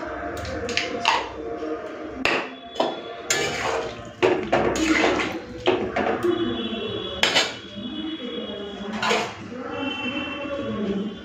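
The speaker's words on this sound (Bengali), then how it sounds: "ঢাকা দিয়ে দিলাম" A lid set on a cooking pot of cauliflower and potato curry, amid a string of close metallic clanks and clinks of utensils against the pot, irregular and fairly loud throughout.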